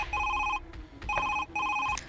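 A telephone bell rings in repeated bursts, two clear trills with short gaps, loud and alone in a quiet room.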